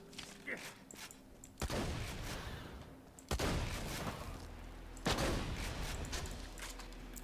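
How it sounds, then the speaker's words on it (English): Gunfire in the video game Borderlands 2, Tiny Tina's Assault on Dragon's Keep, heard as three loud, sharp bursts of shooting spaced about two seconds apart, each trailing off into noisy reverberation, with no talk. "Now who's shooting me?"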